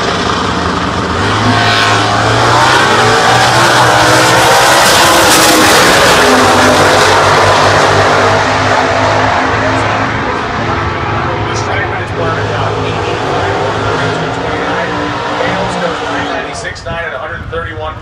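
Loud, roaring drag racing cars launching, revving and accelerating continuously, including a 2009 Roush Mustang with a 331 cubic inch Cobra Jet-style engine and a 2010 Chevrolet, at the U.S. Nationals, with an announcer-like voice talking over the noise throughout.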